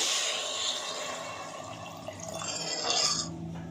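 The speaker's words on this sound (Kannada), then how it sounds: "ಈಗ ಇದು ಮುಳುಗೋಗಷ್ಟು ನೀರು ಇದ್ದೀನಿ" Water is poured over soaked peas and cauliflower in a pressure cooker, producing a close, gurgling fill and splash that swells toward the end before trailing off.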